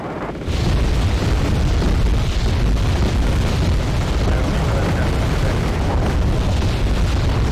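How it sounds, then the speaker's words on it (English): Continuous heavy booming artillery fire and explosions in the military strategy game Wargame: Red Dragon, a naval invasion of Japanese islands, loud and dense after a brief quiet start. "Enemies firing their artillery back."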